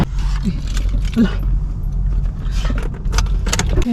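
Car keys jangle in short bursts of metallic clinking inside a vehicle on a long drive home, heard over the steady low rumble of the car.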